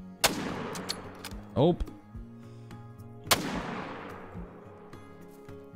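Two sharp 30-06 rifle shots in a hunting video game at Layton Lake, each with a long decaying echo, spaced about three seconds apart, with a brief spoken word between them.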